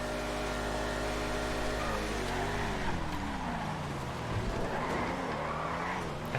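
Comet Retro and Mamba cars racing in GTA FiveM, engine tones sweeping up and down through gear shifts with tire skids and squeals, steady and close throughout, no talk.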